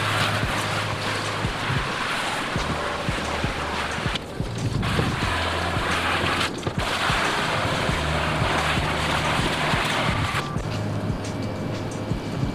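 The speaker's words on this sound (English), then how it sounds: "First thing, obviously, you gotta rinse it." Water sprays steadily onto a Subaru WRX wheel during a rinse, a dense, hissing wash that runs almost the whole time with two brief dips, and no voices.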